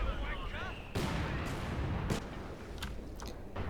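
leFH howitzer artillery in Company of Heroes 2 pounding away at emplacements: several heavy booming shots, each followed by a roaring rumble, with sharp bangs in between over a dense, continuous battle din.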